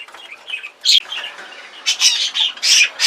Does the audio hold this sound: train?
no